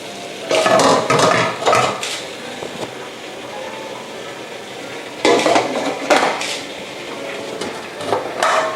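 Metal pots and a steamer clank and scrape in bursts while garlic shrimp is set up to steam, sharp clattering hits separated by a quieter stretch of soft kitchen handling.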